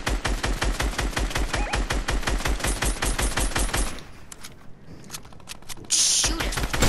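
Rapid automatic gunfire in a shooter video game, dense loud bursts for about four seconds, a brief lull, then another burst resuming, with faint voices barely audible underneath.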